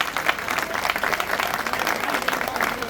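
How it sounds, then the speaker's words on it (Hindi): Loud, continuous applause from an audience at a gathering for an old-age home in a village in Kaithal, dense clapping sustained evenly throughout without pause. "एक बार जोरदार तालियां बजाओ।"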